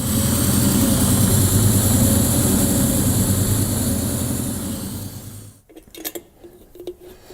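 A steady, rumbling car engine fitted with Holley Terminator electronic fuel injection idles loudly at operating temperature for several seconds, then cuts off abruptly, leaving a few faint clicks and knocks in the quiet.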